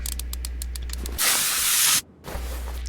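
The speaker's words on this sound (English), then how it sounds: "So then you have to spray it to get it loose." A penetrating spray can hissing onto a stuck bolt in the Car Mechanic Simulator 2021 video game: one loud, bright hiss of under a second, then silence, with a low game hum and clicks around it.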